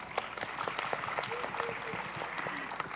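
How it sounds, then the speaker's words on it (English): Conference audience at a Southeast Asia gender-gap panel breaks into a brief round of applause, with individual claps standing out over a moderate wash and faint background sounds. "Please give yourself a round of applause."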